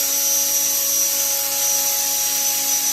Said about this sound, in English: So it's more like a docile little pitch helicopter.